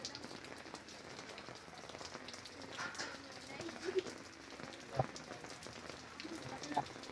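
Steady rain falling outside a family home, a continuous wash of patter with a few sharper drops striking near, while people talk faintly underneath.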